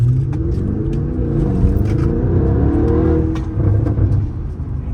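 An Audi S6 quattro engine, around 600 hp, rumbles close by, its pitch rising and falling as it revs, with a few faint clicks over the steady drone.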